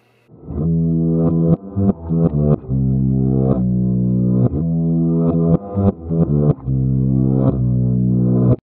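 A distorted electric guitar riff played in reverse, notes swelling up and cutting off abruptly in a steady rhythmic pattern, loud and alone.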